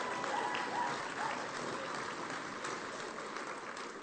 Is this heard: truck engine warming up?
no